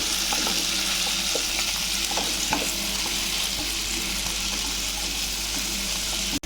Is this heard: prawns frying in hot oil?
yes